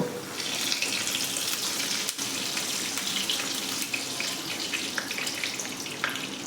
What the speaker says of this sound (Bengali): তেলটা আমার গরম হয়ে গেছে এবার এর ভেতরে আমি কচুরিগুলো দিয়ে ভালো করে ভেজে নেব